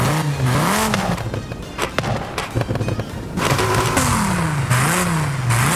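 A Dodge Viper engine with an aftermarket exhaust in Forza Horizon 5 revs repeatedly, rising and falling in loud sweeping bursts, with a brief lull in the middle.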